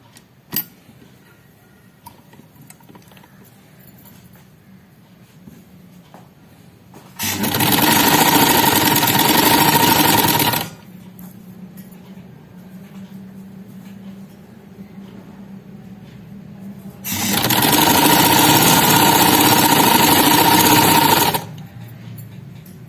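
A sewing machine stitches a neck strip on a high-neck garment in two long, loud, steady whirring runs of about four seconds each, separated by quiet stretches with faint handling noises.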